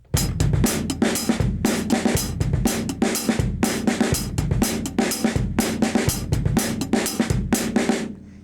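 A basic rock drum beat played straight through on a kit, steady kick and snare backbeat under constant hi-hat eighths, loud and close, repeating evenly for several bars with no talking.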